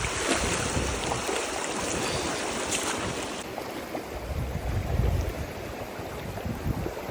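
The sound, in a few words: mountain stream flowing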